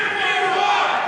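A large crowd at a Trump rally cheers and roars loudly and steadily, making a dense wall of voices with no break.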